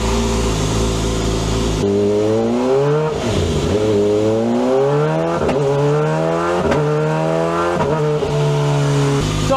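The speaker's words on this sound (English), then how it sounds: "Alright, so we're gonna do a 5th gear pull." A Kawasaki Ninja ZX-4RR with a DNA filter makes a fifth gear pull on a dyno, its engine revving up steadily and loudly in a long rising whine with gear-like steps, close and continuous.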